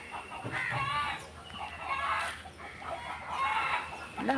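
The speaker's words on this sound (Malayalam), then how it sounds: "ആകെ ബഹളാണല്ലോ കോഴികളൊക്കെ കിടന്നു" Chickens cluck noisily and repeatedly nearby, their squawks and calls overlapping in an agitated, uneven chatter at moderate loudness.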